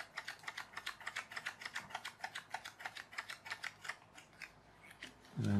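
Rapid ratcheting clicks from winding up a flapping bat toy held on with sticky tape, an even run of small, close ticks that slows and ends after about five seconds.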